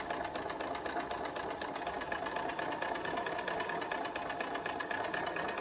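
A sewing machine runs steadily while back stitching a pocket hem on a fabric tool roll, a fast, even whirring clatter at moderate level with no talking.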